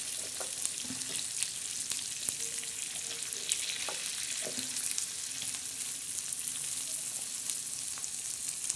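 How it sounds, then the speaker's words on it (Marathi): Moong dal fries in hot oil with a steady, faint sizzle and crackle, joined by a few soft stirring taps close by. "तेलामध्ये अशी डाळ आपण थोडी टाकलेली आहे"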